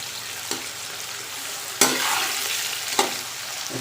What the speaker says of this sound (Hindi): हमारा घी गर्म हो चुका है। तो हम इसमें प्याज ऐड कर देते हैं।